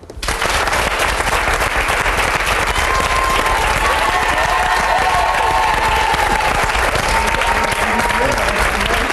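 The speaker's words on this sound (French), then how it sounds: "Sidonie Bonnec, merci de l'applaudir." Studio audience on a French TV comedy show applauds steadily and loudly for several seconds, a dense wash of clapping with a few whistles and cheers rising through it.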